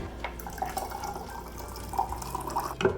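Brine pours from a kettle into glass jars of lacto-fermented dill pickles: a steady, close trickle of water running and filling, with a few small splashes and drips, and no talk.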